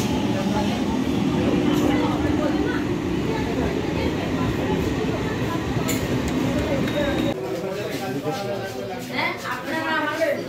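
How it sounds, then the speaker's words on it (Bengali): Busy railway station platform while people wait for a train, with continuous crowd chatter and rumbling ambience that thins slightly toward the end, several voices talking throughout. "আমরা এখন স্টেশনে দাঁড়িয়ে আছি"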